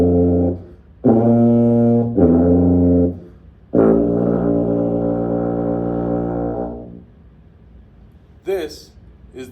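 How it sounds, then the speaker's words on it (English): A tuba plays loud, deep, brassy notes up close: two short blasts, then a long sustained tone that fades, with a brief rustle at the end. "But here's how the tuba sounds."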